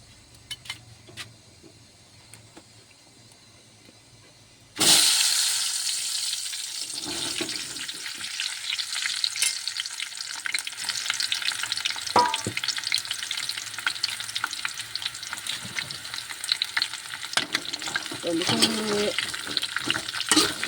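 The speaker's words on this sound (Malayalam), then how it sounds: "നമ്മൾ അരിഞ്ഞു വെച്ച മാങ്ങ ചേർക്കാം." Chopped mango goes into hot oil in a pan for mango pickle. A loud sizzle bursts in suddenly and carries on as a steady frying hiss with occasional stirring scrapes, after a quiet start.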